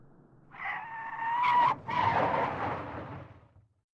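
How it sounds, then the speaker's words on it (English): A car brakes hard, tires squealing into a short screeching skid that fades out after a few seconds. "She slammed on the brakes."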